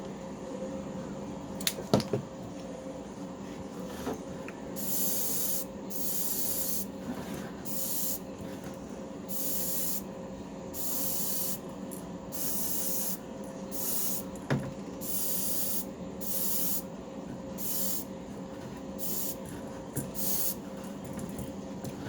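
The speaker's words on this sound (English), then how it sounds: "we'll dust this bait with some pearl white" Short repeated bursts of an airbrush spray gun misting a light pearl white coat onto a custom fishing lure, hissing pulses separated by brief pauses over a low background hum, with a couple of faint clicks.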